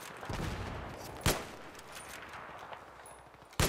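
M40A5 sniper rifle fired in Battlefield 3, two sharp loud cracks spaced a few seconds apart, each a single isolated shot over a quiet background with faint rumble.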